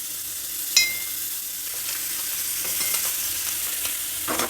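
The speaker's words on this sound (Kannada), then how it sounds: "ಈಗ ಪಡ್ಡು ತವ ಬಿಸಿಯಾಗಿದೆ. ಇದಕ್ಕೆ ಬೆಣ್ಣೆ ಹಾಕ್ತಾಯಿದ್ದೀನಿ." Butter sizzling on a hot paddu pan as small lumps go into each cavity, a steady close crackle with a sharper hiss near the start and a brief burst at the end.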